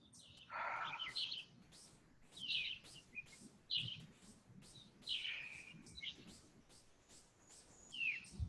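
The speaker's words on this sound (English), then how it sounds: "Hear the birds." Birds chirp and tweet outdoors in a short series of bright, separate calls over a soft background, moderately near, with no talking.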